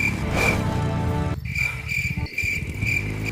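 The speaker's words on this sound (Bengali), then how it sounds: "চারদিকে ঝিঝি পোকার ডাক ছাড়া আর কোনো শব্দ নেই" Steady, shrill chirping of crickets close by at night, pulsing continuously over a low rumble that cuts out briefly.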